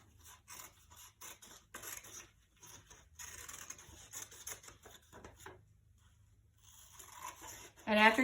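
Scissors snipping through paper while cutting out eighth-size fraction bars in an elementary classroom, a run of short scratchy cuts and rustles at close range, pausing briefly before a louder handling noise at the end.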